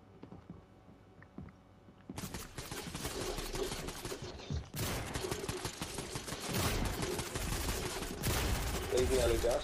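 Dense bursts of gunfire in a video game, loud rapid shots crowding together after a quiet opening, with players' voices mixed in.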